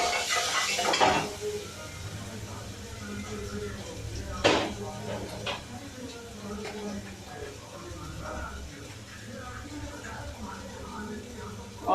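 A spoon stirs garam masala, turmeric and salt in a cooking pot, with metallic clinks and scrapes against the pot, one sharp knock near the middle, over a soft background hiss.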